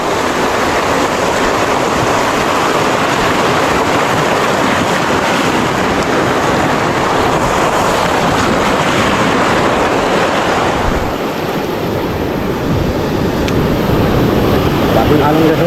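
Many sea waves wash around a small fishing boat at sea, a loud constant roar of surf and water mixed with wind buffeting the microphone, with someone talking over it.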